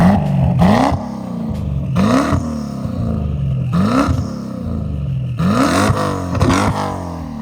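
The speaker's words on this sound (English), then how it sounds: "Oh, here's a turbo spool, guys." A twin-turbo BMW E92 M3 with over 850 horsepower gives loud, repeated rising whines and revs, surging about every couple of seconds with no voices.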